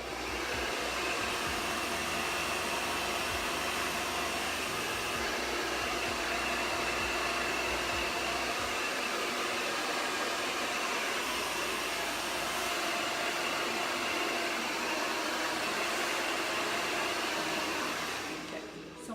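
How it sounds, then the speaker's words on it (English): A hair dryer blows continuously at close range, a steady loud whooshing hum that holds evenly throughout before cutting off at the very end. "I'm gonna turn and push with my blow dryer"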